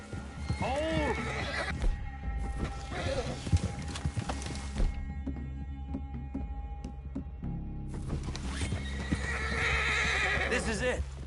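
Horses in Red Dead Redemption 2 whinny and neigh repeatedly near the listener, mixed with clip-clopping hooves and some background game sound, with a brief quieter lull in the middle before the animal noise returns.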